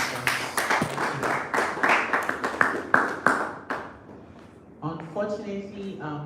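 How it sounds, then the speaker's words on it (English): A small audience claps for a guest at a business fireside chat, a brief round of scattered, distinct claps that trails off before speech begins. "So please give him a round of applause."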